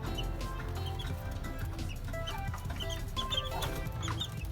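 Chicks and a mother hen cluck and peep around a backyard poultry setup, a steady busy chorus of soft clucks and high chirps over a low background rumble.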